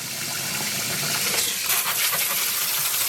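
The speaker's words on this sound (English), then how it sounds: "But I'll turn off the water and that noise for a moment." Water runs steadily from a tap into a basin while yarn is being resist dyed, a continuous broadband gush and splash that stays close and fairly loud throughout, with slight surges partway through.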